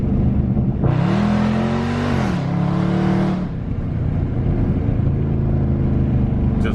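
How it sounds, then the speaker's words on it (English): A car engine revs up loud and close, with the pitch climbing and then dropping as it downshifts. It keeps droning under steady road noise while driving, and no one talks. "I'll do it one more time for you, and you will hear, listen to it downshift."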